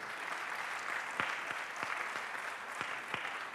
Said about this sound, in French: Applaudissements mérités pour un cadrage à la fois passionnant et passionné.